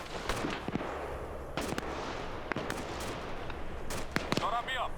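Gunfire in a tactical multiplayer video game, including an unsuppressed weapon: sharp scattered shots crack out repeatedly over a dense rumbling background, some close and punchy, others more distant.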